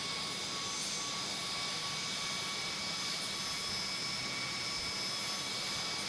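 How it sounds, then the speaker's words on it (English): Jet aircraft engines whine steadily at an airport in the air traffic control game Tower! Simulator 3, set at Pittsburgh International Airport, with a continuous broadband roar and sustained high tonal hum, no talking. "Oh, listen to those engines."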